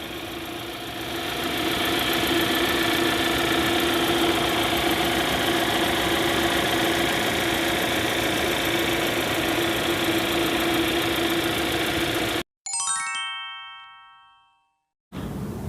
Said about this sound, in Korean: 시동 소리 한번 들어보세요